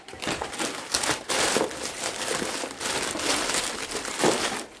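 Glittery net fabric being handled and rustled, giving a steady, fairly loud crinkling with a few sharper crunches across the stretch, and no talking.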